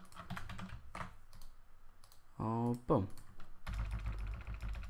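Close computer keyboard typing comes in quick bursts of key clicks, sharing the moment with talking voices and a brief hummed or sung tone.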